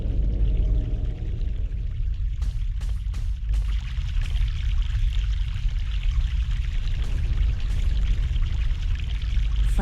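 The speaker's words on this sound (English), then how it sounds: "Fresh mountain water." Fresh mountain water pours steadily in The Longest Journey video game, a continuous loud gushing stream with a few brief clicks partway through.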